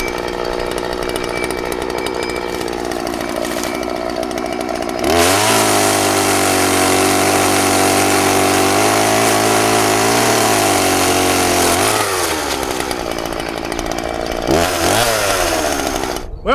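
A chainsaw drones nearby, its engine rising to a loud, strained pitch as it bites into wood, then dropping back toward idle.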